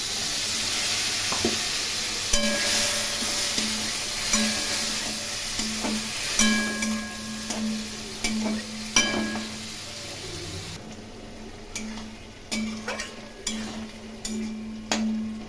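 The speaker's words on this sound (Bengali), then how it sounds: "এর মধ্যে জল দিয়ে মশলাগুলো ভালো করে ভেজে নেবো" Spices with a splash of water fry in a pan for a small-hilsa, eggplant and potato curry, giving a steady hiss with scattered scraping stirs and utensil taps throughout, the sizzle quieting toward the end.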